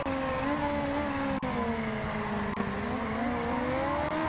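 Motorbike engine in the racing video game Ride 2, a continuous droning whine that rises and falls slightly as the bike holds speed, steady and loud with no talking.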